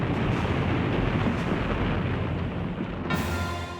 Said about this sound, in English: The Reich Chancellery is then set ablaze by Soviet artillery.